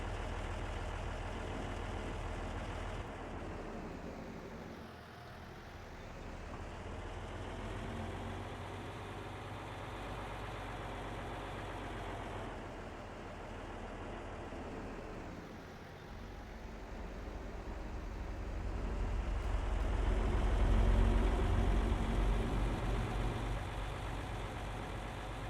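A tractor engine in Farming Simulator 22 drones steadily at low pitch, rising and dipping slightly in load and swelling louder near the end, with no talking.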